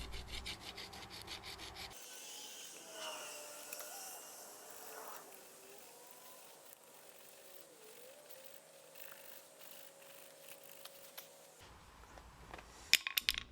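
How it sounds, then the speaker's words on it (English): An old screwdriver scraping dirt off the splines of a 1961 Bolens rear-mounted tiller, a faint rasping rub that runs steadily for several seconds, close up, with sharper clicks and scrapes at the start and end. "I have an old screwdriver I use for scraping stuff, and I'm going to scrape down each one of these splines with it"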